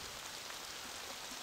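Light rain in an Apple Vision Pro virtual environment by the water, a soft, steady, even hiss of falling drops with no talking.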